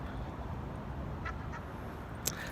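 A seagull gives two short, faint squawking calls at a distance over a low, steady background hum, followed by a brief sharp click.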